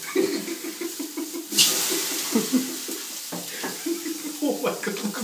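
Bacon sizzling on a grill inside a hot sauna, a steady crackling fry with bursts of hiss, under close, overlapping talk.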